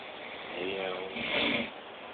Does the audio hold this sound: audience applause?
no